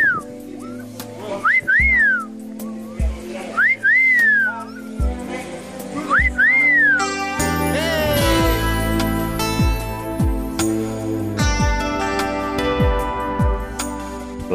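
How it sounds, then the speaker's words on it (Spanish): A person whistles short, rising-and-falling phrases, clear and close, then carries on with a more sustained melodic whistle over a louder musical background. "Chifla, chifla ahí."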